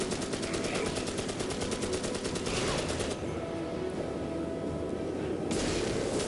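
M60 machine gun fire in the video game Magicka, rapid continuous bursts of shots with a short pause before another burst starts, loud and close over a noisy battle background.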